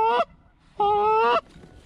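Canada geese honk in flight during a late-season Virginia waterfowl hunt, two loud, clear honking calls close overhead separated by a short gap.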